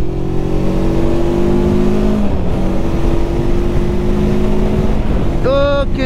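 A Voge 525 DSX adventure motorcycle engine pulls under opened throttle, a loud, steady drone with heavy wind rush, with the pitch shifting as it accelerates and a short rising whine at the end.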